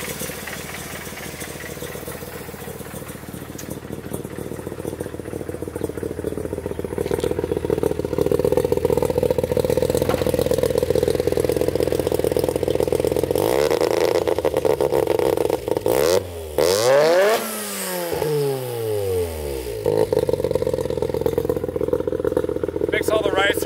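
Mazda RX-7 rotary engine fitted with a new turbo, revving loudly and steadily before several quick throttle blips rise and fall near the end, with people talking over it.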